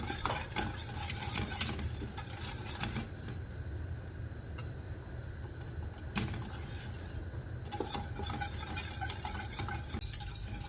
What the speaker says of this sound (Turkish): Şöyle kakaolarımı falan güzelce karıştırayım ki topaklanma yaşanmasın